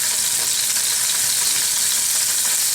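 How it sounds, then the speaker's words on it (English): Halloumi sizzles and spits loudly in hot olive oil in a pan, a dense, steady crackle that fills the whole stretch with no voices. "just drop this in, you'll feel it sizzle"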